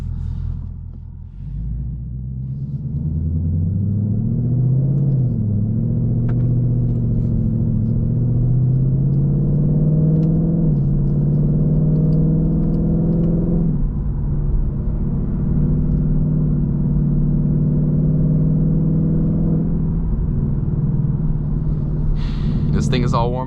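A 2022 Ford Mustang GT V8 driving on backroads, its engine rumbling close and loud as it climbs through gears, rising in pitch, then settling into steady revs.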